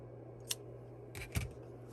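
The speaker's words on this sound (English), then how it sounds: "we're going to cut our yarn tail" Scissors snip a knitting yarn tail on a corner-to-corner eyelet square, giving a single faint close cut and then a brief double snip against a quiet room hum.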